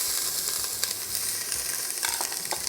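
Garlic hits hot mustard oil in a pan while cooking geera pork, giving a loud, close, continuous sizzle with a few brief crackles and scrapes.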